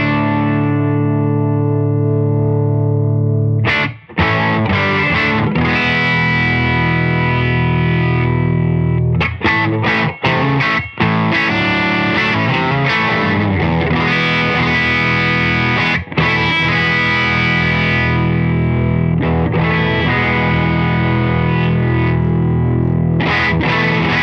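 Loud, heavily overdriven electric guitar through a Beetronics Wannabee Beelateral Buzz dual overdrive pedal, playing sustained chords and riffs with brief choppy breaks, thick distorted tone throughout, no talking.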